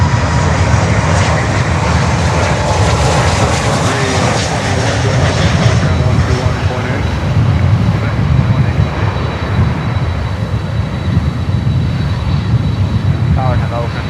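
A fixed-wing aircraft landing at Miami airport gives a steady, loud engine roar with wind rumble that holds throughout, while radio-style voices talk faintly beneath it.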